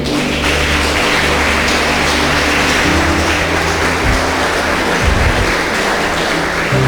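A church congregation applauds during a sermon, steady sustained clapping filling the space at an even level, with a low hum underneath and no voices over it.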